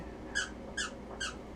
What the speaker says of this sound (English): Sorry if you hear squeaks in the background, we do got a new puppy.